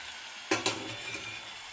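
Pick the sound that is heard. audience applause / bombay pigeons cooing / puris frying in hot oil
puris frying in hot oil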